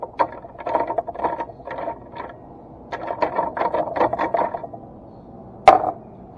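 A 20 mm socket slips and spins on a rounded bolt, giving bursts of close metallic grinding and ratcheting scrapes in uneven clusters, ending with one sharp clank.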